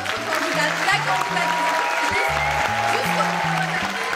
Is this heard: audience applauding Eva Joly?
yes